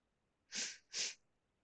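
Two quick, breathy sneezes in close succession, near and fairly soft, in a quiet indoor setting with no talking.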